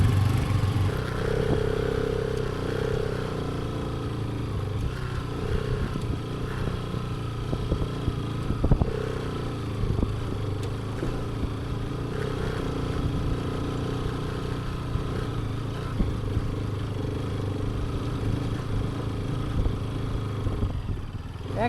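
A motorcycle engine runs continuously on a ride out near Harihara Betta outside Bangalore: a steady mid-pitched drone with light clatter, close and unbroken for the whole stretch, with no talking.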